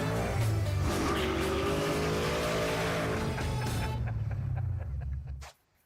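A 1979 Chevy Malibu with an LS engine swap and about 500 horsepower is driven hard. The loud engine revs and climbs close by with some tire noise, then drops off abruptly near the end.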